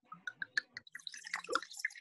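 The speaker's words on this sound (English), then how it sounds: "it's the 2013 Jack, so I'm gonna pour myself a little" A 2013 Jack red wine is poured into a glass, giving a quiet, close series of small gurgles and drips that run together into a brief splashing trickle.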